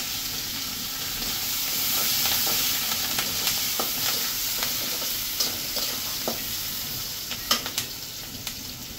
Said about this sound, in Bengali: এখন এই যে তরকারিটা আমি সামান্য পেঁয়াজ দিয়ে দেবো আর কাঁচামরিচ